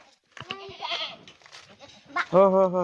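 Goats and young kids bleat on a farm in a few short, wavering calls, with a louder, sustained bleat near the end and faint voices in the background.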